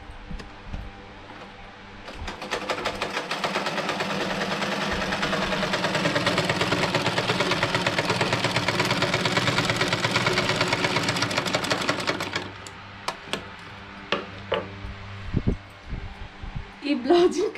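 A domestic sewing machine stitching with white thread runs in a steady, close whirring burst of about ten seconds, then stops, leaving a few light clicks and handling sounds.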